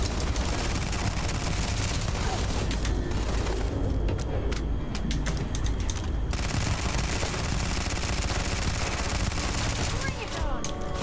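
Rapid automatic gunfire in the space game Starfield, a dense loud stream of shots over a constant combat din. It is almost unbroken for about eleven seconds, with a few short lulls.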